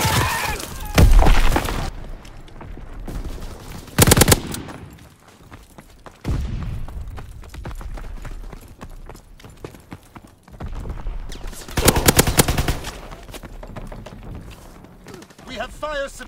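Grease Gun submachine gun fire in Call of Duty WW2, heard as several loud bursts of rapid shots amid battlefield game sounds, with in-game voices calling out orders.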